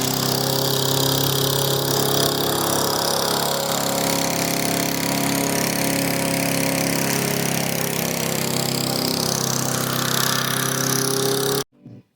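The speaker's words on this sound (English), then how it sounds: "We got to go mow." A lawn mower engine runs steadily and loudly at close range for about eleven seconds, then cuts off abruptly near the end, leaving a brief quieter tail.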